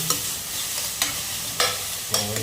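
Green chillies frying in a pan for mutton gravy, with four sharp stirring scrapes spaced about half a second apart over a steady low sizzle, close and moderately loud.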